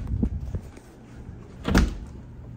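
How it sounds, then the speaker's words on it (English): An apartment door swings open with soft thuds and handling bumps, then a louder knock and rush of movement near the end, close by and alone. "you were about to hit me with that door"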